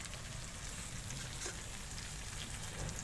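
Marinated chicken for a Bengali chicken curry sizzles in a pan, a faint continuous frying hiss with a soft stir, no talk.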